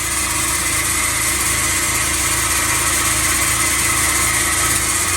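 A bandsaw winding down after cutting a wooden duck decoy blank, a steady motor hum and whir with a faint vibration, running continuously and fairly loud with no talking.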